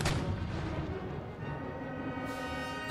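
Cannon volley from artillery batteries in Empire: Total War, a heavy booming blast at the start that rolls into a sustained rumble, with a second fainter report near the end.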